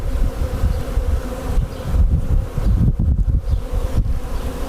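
Honey bees, including foragers and male drones, buzz around a newly installed nuc hive in a dense, close drone mixed with wind noise on the microphone.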